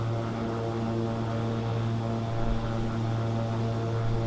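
Airplane engines drone steadily just after takeoff in a flight simulator video game, a constant tonal hum with a layered engine roar and no break throughout.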